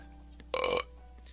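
A single loud, brief belch from a character in the video game Fallstreak, standing out over faint game background sound.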